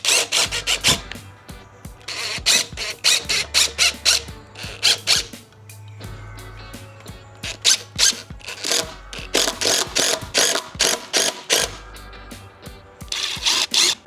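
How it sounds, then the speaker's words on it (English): An impact driver drives hex screws into a wooden planter, making repeated rapid rattling hammer bursts at close range with short pauses between screws. "I then realised that the impact driver was more than man enough for the job"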